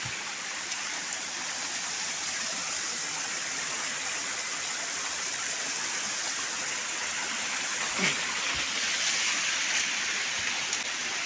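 Steady broadband rush of a small waterfall at a monsoon-season forest picnic spot, continuous and fairly close, with a brief faint knock near the end.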